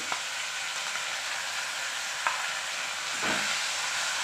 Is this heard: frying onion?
yes